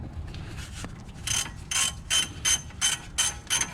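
Ratchet wrench clicks in steady, evenly spaced bursts as bolts are tightened on an Audi C7 front brake assembly, close and fairly loud, with no one talking.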